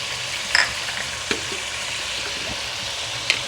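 Ginger garlic paste frying in a karahi pan for chicken karahi, a steady close sizzle with a few sharp clicks of a utensil against the pan, no talking.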